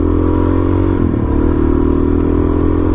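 A Suzuki DRZ 400 dual-sport motorcycle drones steadily while riding on a hot February day, with a loud, continuous engine hum, wind rush and rattling clatter throughout.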